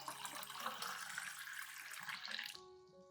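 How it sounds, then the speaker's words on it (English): Room-temperature clean water, about a liter, poured to dilute an onion fertilizer solution for anthurium plants; a steady broadband splash that runs continuously for about two and a half seconds, then stops abruptly, leaving a faint tonal hum. "add 1 liter of clean water at room temperature to dilute the solution"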